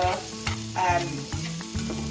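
Beef teriyaki sizzles and fries steadily in a hot pan, a close crackling hiss punctuated by occasional stirring clatter and scraping, with no voices.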